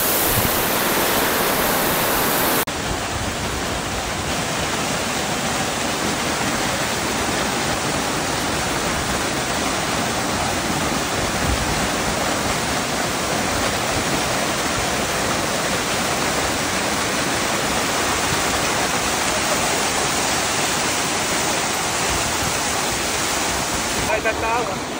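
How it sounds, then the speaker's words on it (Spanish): One of the falls of the Los Reyes cascade on a mountain trek near Machalí, Chile, a loud, close, steady roar of rushing water that fills the whole stretch without a break. "Uno de las caídas de la cascada de los Reyes, que está un poquito más arriba."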